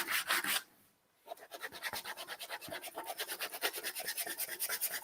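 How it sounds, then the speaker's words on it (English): Steady rhythmic rasping of 120-grit sandpaper scrubbing back and forth along the grain of wood, close and continuous, with a brief pause near the start. "and again sanding with the grain."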